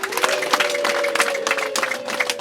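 A wedding crowd claps steadily and densely throughout, with a sustained tone running beneath the applause.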